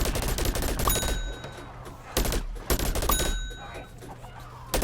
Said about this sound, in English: Let's get on to this cannon.